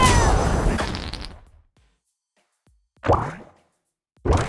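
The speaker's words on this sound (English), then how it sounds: "I thought I'd add this raspberry sound" A buzzy, sputtering blown-raspberry fail sound effect from a kart racing video game that fades out, then two shorter splutters after a pause of silence.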